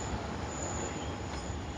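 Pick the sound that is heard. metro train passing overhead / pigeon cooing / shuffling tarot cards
metro train passing overhead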